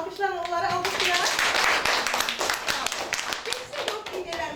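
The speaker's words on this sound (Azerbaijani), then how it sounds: "Bir alqışlarla onları alqışlayaq." Classroom applause for student group leaders: a dense burst of hand clapping from a room of pupils, steady and fairly close, with children's voices talking over it.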